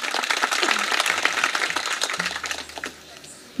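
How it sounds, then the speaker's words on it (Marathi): Audience applause at a devotional kirtan gathering, a dense wash of clapping that fills most of the moment, then thins and fades out near the end. "जोरदार टाळ्या वाजवा यांच्यासाठी एकदा."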